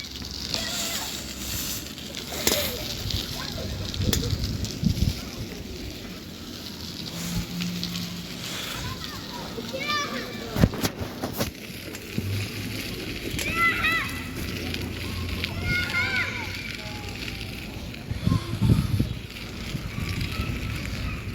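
A bicycle ridden through rainwater on wet streets after heavy rain in Saudi Arabia gives a steady, hissing splash of tyres under intermittent voices, with occasional nearby clatter.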